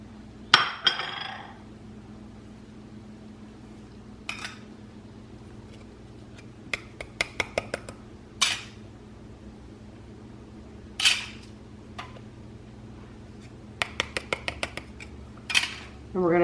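Spices, flour and oats for a Yorkshire parkin being stirred together in a bowl, heard as scattered clinks and scrapes of a utensil against the dish in irregular bursts, close and fairly quiet over a low steady background hum.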